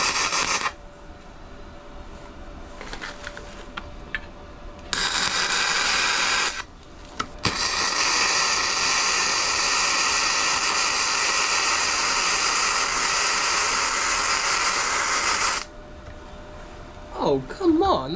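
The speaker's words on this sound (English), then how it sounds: "I'm currently just going to do some welding." Welding on a bracket for a VR5 engine: long bursts of loud, harsh, steady crackling hiss, one lasting about eight seconds, separated by quieter pauses.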